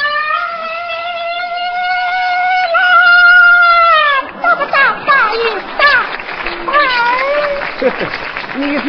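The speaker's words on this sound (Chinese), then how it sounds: "鼓掌，让大美女上来" A studio audience at a 2007 Chinese TV comedy variety show breaks into applause about halfway through, after a long drawn-out voice. The clapping continues to the end, with voices calling over it.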